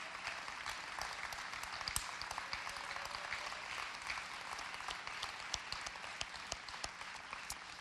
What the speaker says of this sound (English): Go ahead and give a big round of applause for all of our contestants.